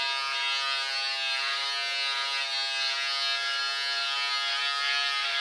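A Philips Norelco beard trimmer runs on a weak, dying battery, giving a steady, loud electric buzz with a rich, constant hum that carries on alone without pause.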